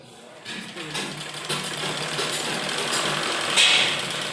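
An electric sewing machine runs steadily, stitching kurti fabric from the hip mark up to the waist, its motor whirring in a continuous close drone that rises slightly in intensity toward the end.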